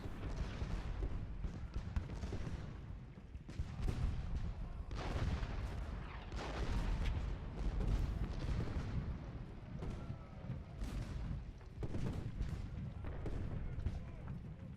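Artillery and gunfire from a Civil War battle on the third day of Gettysburg in the strategy game Ultimate General: Gettysburg: dense, continuous rumbling booms and crackling volleys overlapping without pause, loud throughout.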